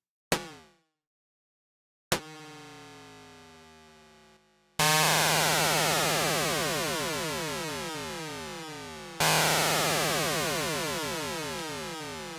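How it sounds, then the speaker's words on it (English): A Mavis synthesizer with its LFO modulating the VCO at audio rate gives harsh, sweeping metallic tones. Each one enters abruptly and slowly decays. A short blip is followed by three longer, louder bursts with wide, dense sidebands. "What we're hearing is a wide-ranging frequency modulation between the LFO and the VCO at audio rates."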